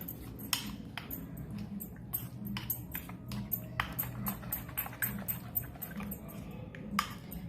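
A spoon stirs batter in a bowl in a home kitchen, giving a steady run of light clinks and taps against the bowl edge. It sounds close but quiet over a low background hum.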